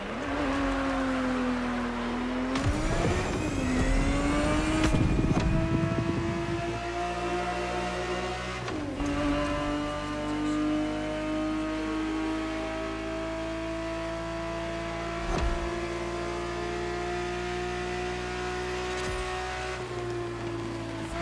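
A Ferrari 365 GTB4 in a racing video game revs loudly with a rising wail that drops and climbs again, then settles into a long steady high-speed drone, with a brief burst of tire noise early on.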